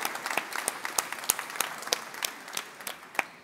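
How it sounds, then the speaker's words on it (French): Applause from an audience at a town's New Year greetings ceremony in Saint-Germain-lès-Corbeil, a steady patter of many hands clapping with a few sharper individual claps standing out, moderately distant and heard alone. "On peut les applaudir très très fort"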